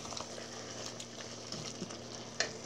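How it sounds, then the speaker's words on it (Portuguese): Chicken stroganoff base with tomato sautéing in a pan, a steady low sizzle and crackle with soft stirring scrapes and one brief clink near the end, no voices. "vou deixar aqui refogando"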